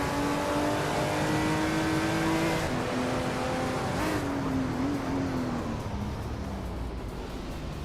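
Race cars at Sepang, led by a classic 1971 Ferrari 312, in a racing game: a loud, steady engine drone with a high whine that shifts pitch as the cars accelerate and change gear.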